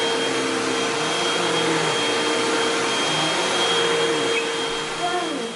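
Vacuum cleaner running steadily indoors, a loud continuous whining drone with a high tonal whistle, while voices speak faintly underneath.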